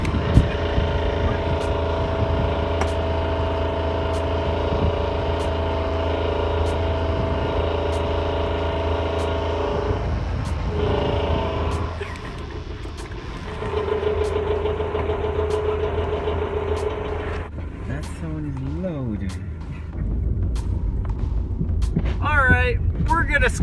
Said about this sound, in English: Car's making some funny sounds.